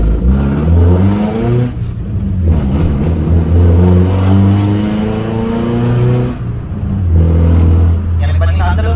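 A modified 2.4L Honda Accord pulls hard from a standing take-off, its engine note climbing in pitch through the revs, dipping at a gear change, then climbing again, loud and close from inside the cabin.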